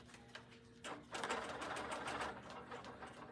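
A BERNINA longarm quilting machine stitching across a quilt, starting with soft mechanical whirring and rising to a steady, fairly loud running hum of rapid needle strokes that holds for most of the stretch.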